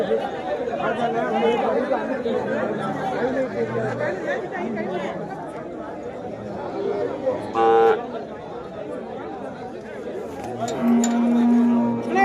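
Cattle at a livestock market amid a steady din of crowd chatter, with a few moos breaking through now and then and a honking horn near the end, all heard from within the busy crowd.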